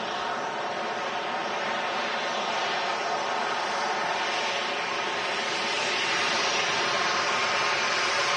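A Ryanair jet airliner arriving at Manchester Airport from Budapest gives a broad, steady roar of engine noise that builds slightly toward the end, with no voices.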